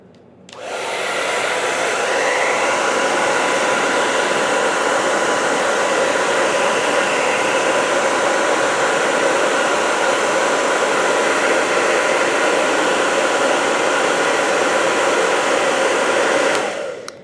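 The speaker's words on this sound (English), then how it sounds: "And grab a hairdryer here." A hair dryer switches on and blows with a steady, loud whirring hiss for over fifteen seconds, heating seals on hot sauce bottles, then shuts off.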